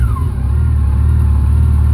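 A warmed-up 2014 Yamaha FJR 1300 ES motorcycle idles at about 1,000 RPM, a steady, close, low engine rumble with an even pulse and no other sounds.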